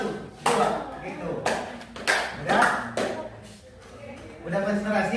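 Hands clap in sharp single and double beats during a counting concentration game in a classroom, spaced a second or so apart, with a voice talking between and over the claps.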